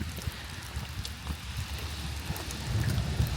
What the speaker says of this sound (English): It's not raining too hard now.